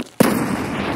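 A grenade explodes in the shooter game Escape from Tarkov, one sudden loud blast after a brief quiet that leaves a sustained rumbling echo tailing off.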